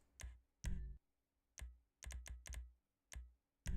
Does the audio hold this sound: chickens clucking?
no